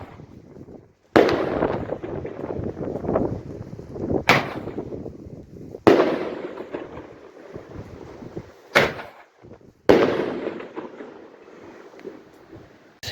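New Year 2025 celebration fireworks boom in a series of four or five loud, sharp blasts, each with a rumbling tail, spaced a few seconds apart, with no talking.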